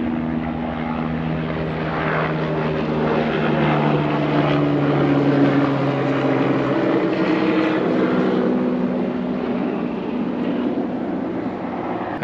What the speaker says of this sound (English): Oh, there's a helicopter coming.